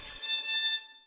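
A violin bowed too close to the bridge sustains a single bright, thin note rich in upper overtones, starting with a scratchy attack and fading out after about a second.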